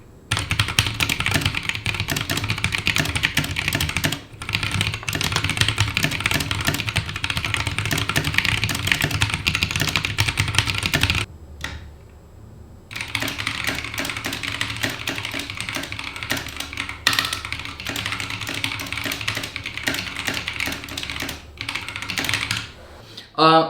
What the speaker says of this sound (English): this is the keyboard, or this is the switch really, that I would recommend, these Halo Clears